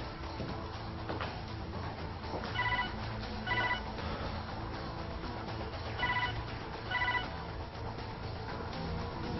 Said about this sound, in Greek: Το κινητό σου δεν ακούς?